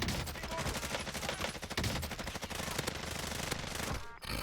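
Rapid automatic fire from a Bruen rifle in Call of Duty, a dense continuous burst of loud gunshots lasting several seconds before cutting off abruptly near the end; no talking.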